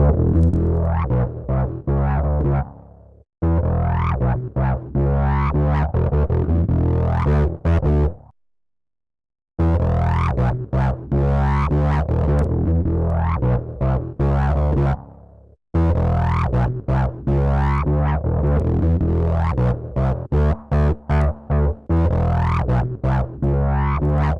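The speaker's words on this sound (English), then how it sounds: "On this next already somewhat distorted bass, I can get a very sweet distortion sound." Heavily distorted bass line processed through the Ocelot Clipper plugin, playing busy repeated notes with a gritty, saturated tone, broken by a brief silent gap partway through and a short pause later.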